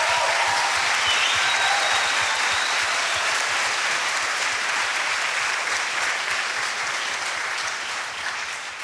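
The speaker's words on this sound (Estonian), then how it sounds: "me kõik siin plaksutasime" An audience claps together in sustained, dense applause at a session gathering, loud and even at first, then gradually thinning toward the end.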